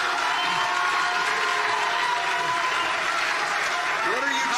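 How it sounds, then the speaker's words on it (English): A debate audience applauds and cheers steadily, a dense continuous wash of clapping and crowd noise at high level throughout, with voices mixed into the roar. "What are you cheering for?"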